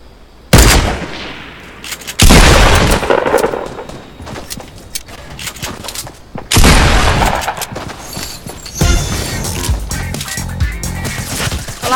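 Repeated loud gunshots from a video game, with sharp blasts and bursts of gunfire spaced across the stretch, some sudden and booming, others rattling in quick succession with no talk.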